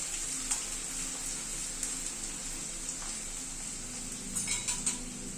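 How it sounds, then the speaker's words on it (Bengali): Chopped medium onion frying lightly in a pan, a steady soft sizzle throughout with a few faint utensil clinks near the end. "পেঁয়াজটাকে একটু হালকা ভেজে নিচ্ছি"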